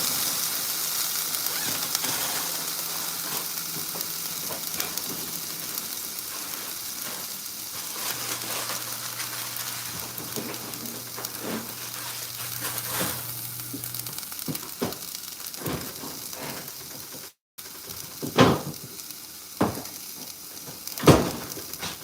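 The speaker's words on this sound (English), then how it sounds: "Get it sizzly." Hash browns and sausage frying on a griddle, a steady crackling sizzle with a low hum beneath, a brief dropout, then a couple of louder clanks from utensils near the end.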